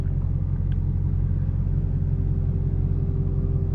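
Deep, steady engine rumble from a Dodge Hellcat Redeye Jailbreak, heard from inside the car as a continuous low drone at even loudness, with no speech.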